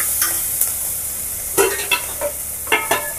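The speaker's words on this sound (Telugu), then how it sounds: "అల్లం వెల్లిగడ్డ పేస్ట్ వేసేసుకొని" Ginger garlic paste sizzles with carrot, onion and green chilli in hot oil, a continuous close frying hiss broken by several sharp stirring scrapes of a spoon against the pan.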